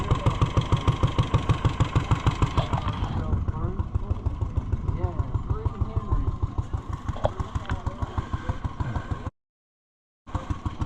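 An early International Harvester 110 antique tractor with round fenders runs steadily at a machinery show, its engine putting out a loud, even rhythmic chug, with people talking over it and a brief dropout near the end.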